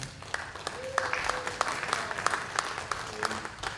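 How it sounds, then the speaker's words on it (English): A round of applause from an audience at a welcome event honouring a continuing education coordinator, moderate and steady with a few sharper claps and faint voices mixed in. "Please give her a round of applause."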